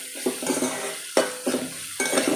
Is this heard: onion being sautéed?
yes